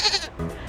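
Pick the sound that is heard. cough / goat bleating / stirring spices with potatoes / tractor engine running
goat bleating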